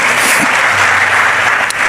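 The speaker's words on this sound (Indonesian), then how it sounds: "Berikan tepuk tangan kita untuk Tuhan kita." Church congregation applauding during a Christmas service, a loud, dense wash of clapping that fills the whole moment without a break.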